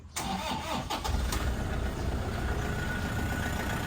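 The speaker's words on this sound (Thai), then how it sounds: "เดี๋ยวผมให้สตาร์ทให้ลูกค้าได้ฟังกันเลย กับเครื่องยนต์คันนี้นะครับ" A Toyota Hilux Vigo Champ 2.5 diesel pickup engine cranks briefly and catches, then settles into a loud, steady idle close by, with no talking.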